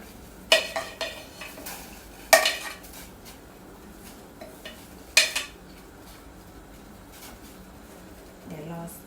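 Crushed bird's eye chilies, lemongrass, galangal and coriander root are tipped into a cooking pot, producing several sharp metallic clinks and utensil knocks, with quieter handling noise in between.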